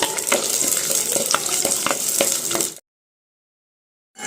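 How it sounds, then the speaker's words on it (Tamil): Green chili, curry leaves and onion frying in oil for sambar, a bright crackling sizzle with repeated scraping stirs, stopping abruptly into silence before a faint return at the end. "பச்சை மிளகாய் சேர்த்துக்கலாம் அடுத்து கருவேப்பிலை சேர்த்துக்கலாம் அடுத்து வெங்காயம் சேர்த்துக்கலாம்"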